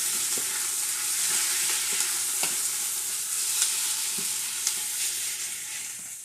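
Beef strips with onions sizzle steadily in a hot stir-fry pan while a utensil scrapes and taps as the meat is pulled apart and turned.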